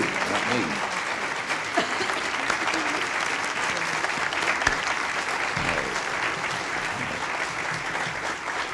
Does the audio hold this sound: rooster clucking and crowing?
no